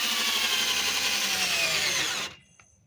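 A power drill drives a screw into the wood of a disabled ramp, a loud, steady high whine that runs for about two seconds and then cuts off abruptly, leaving a faint rattle.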